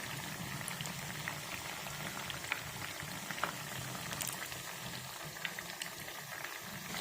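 Fish pakora frying in oil over a medium flame, a steady, even bubbling sizzle with faint crackles, continuous and fairly quiet at close range, with no talking.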